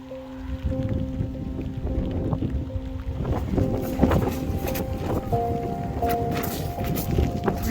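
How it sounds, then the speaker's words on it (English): Gusty wind buffets the microphone on a rainy hiking trail in the Italian countryside, a steady rushing roar with light rain patter and a few faint tonal whines mixed in. "because it's getting really windy and kind of rainy"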